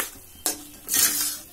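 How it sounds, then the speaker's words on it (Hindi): A spoon stirs urad dal kachori filling in a pan over a slow flame, giving two short scraping bursts with a light sizzle underneath, close and without talk. "अब इसको इसे हम स्लो आंच पे किसी तरह से चला चला के चारों तरफ से"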